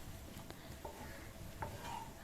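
Okra masala being sautéed in a pan, with soft stirring and scraping over a faint sizzle and a few light metallic clinks of the spatula against the pan.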